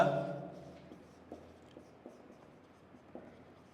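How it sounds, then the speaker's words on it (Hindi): A pen writes out a JEE Mains chemistry question, making faint, close scratchy strokes and small taps, with a voice briefly heard at the start. "चलो पहले मैं क्वेश्चन लिख देता हूं पूरा।"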